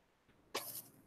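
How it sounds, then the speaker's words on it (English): A single sharp sneeze from a person, loud and close, preceded by a soft intake of breath and trailing off quickly in a quiet room. "I think that's the first time I've ever sneezed on camera."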